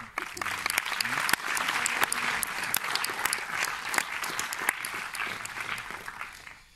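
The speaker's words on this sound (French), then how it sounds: "Sous vos applaudissements." A crowd applauds at the 2019 Fribourg International Film Festival ecumenical jury award ceremony, dense, lively clapping with crisp individual claps standing out, sustained strongly and fading slightly at the close.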